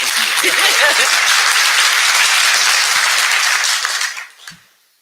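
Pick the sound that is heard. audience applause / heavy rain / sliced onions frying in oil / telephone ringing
audience applause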